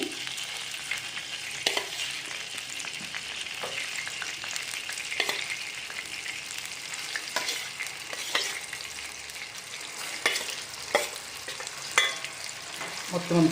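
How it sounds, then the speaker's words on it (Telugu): Chicken pieces sizzle steadily in hot oil with turmeric for a chicken gongura pickle, with repeated spoon-stirring scrapes cutting through the continuous close, loud frying hiss. "ఇప్పుడు చికెన్ తీసుకుని ఇందులో వేసి ఫ్రై చేసుకోవాలండి"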